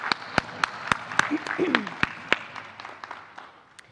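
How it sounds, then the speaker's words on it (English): Scattered, sparse claps ring out for graduates at a 2021 teaching academy graduation ceremony, a handful of sharp hand claps spaced irregularly with talking and room murmur underneath. "And a big round of applause for the Career and Technical Education graduates."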